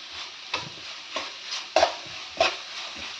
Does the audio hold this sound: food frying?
yes